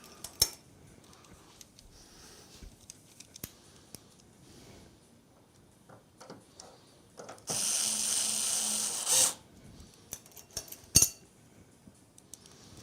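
Small radiator screws for a HAVN BF360 PC build clink and rattle in scattered faint metallic ticks, with one louder sustained rustling burst midway, the handling close and quiet.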